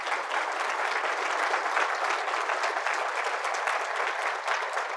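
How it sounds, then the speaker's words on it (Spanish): A church congregation breaks into loud, sustained applause during a Catholic service, a thick even roar of many hands clapping for five seconds with no voices over it. "Fuertes aplausos a la palabra del Señor."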